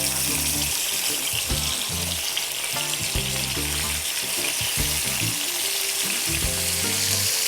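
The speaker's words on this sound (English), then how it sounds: "now I'm just going to brown my chicken, making sure not to overcrowd my pan." Chicken pieces brown in a frying pan for Jamaican brown stew chicken, giving a loud, constant oil sizzle and spatter close by, with faint low thumps from the pan underneath.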